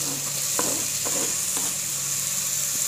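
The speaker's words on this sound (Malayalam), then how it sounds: "സവാള ഇപ്പോൾ നല്ല ഫ്രൈ ആയി വന്നിട്ടുണ്ട്" Onions, with tomato, sizzle as they fry in a pan for homemade chicken rice, a steady hiss broken by a few scraping stirs of the spoon.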